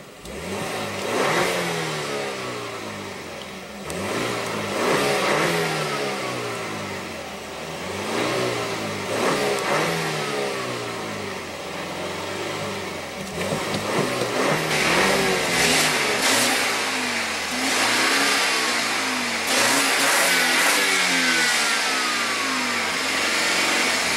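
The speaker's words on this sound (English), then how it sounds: "And let's go ahead and rev it up." The 2.0L turbo four-cylinder of a 2016 BMW X3 is revved repeatedly from idle, with the pitch climbing and falling in several swells. The engine is close and fairly loud, and no one speaks.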